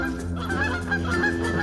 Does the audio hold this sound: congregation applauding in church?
no